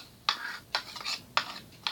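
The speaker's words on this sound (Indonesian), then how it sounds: "Mari kita aduk" Homemade slime being stirred gives four quiet, evenly spaced squelching strokes, close and soft, with little else around them.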